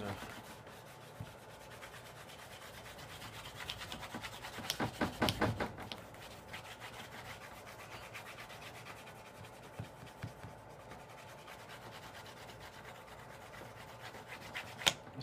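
A stick of waxy chromium oxide compound rubbed onto a razor strop, making a soft, steady scraping rub that is faint and continuous, with a louder burst of strokes midway.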